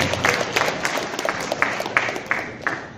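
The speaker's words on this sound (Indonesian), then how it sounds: "Luar biasa, tepuk tangan untuk saya." An audience applauds at a doctoral dissertation defense in a university engineering faculty, a moderate hall full of clapping with a few distinct nearer claps standing out, gradually thinning toward the end.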